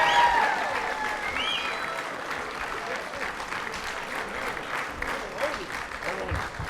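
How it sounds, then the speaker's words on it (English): Sustained applause from a ceremony audience at a university athletic hall of fame induction, steady clapping that fills the room for several seconds without pause. "can we have a round of applause for all the recipients today?"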